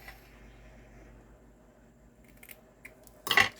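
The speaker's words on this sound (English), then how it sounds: "We're gonna snip our ends at an angle." Scissors snipping a ribbon end at an angle in a quiet papercraft setting, one crisp close snip near the end after faint handling sounds.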